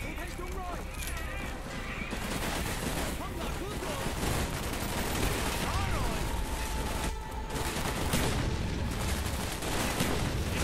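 Gunfire in Call of Duty: Black Ops, dense repeated shots and explosive bursts filling the scene continuously amid game ambience, with a player talking over the action.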